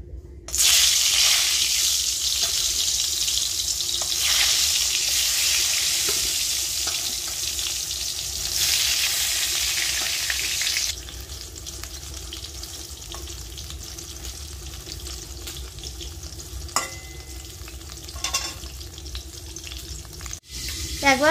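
Round brinjal slices fry in hot oil with a loud, dense, continuous sizzle, easing somewhat partway through into a quieter steady crackle with occasional sharp pops and utensil knocks.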